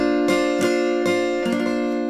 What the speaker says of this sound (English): you're going to do a hammer on to make it sound like this.